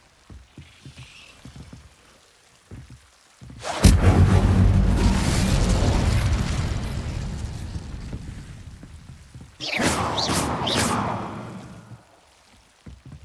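Incendio fire spell cast in the Hogwarts Legacy video game: a loud whooshing burst of flame that roars for several seconds and fades, followed by a second shorter fiery rush.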